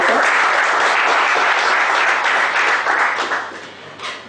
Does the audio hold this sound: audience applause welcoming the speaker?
yes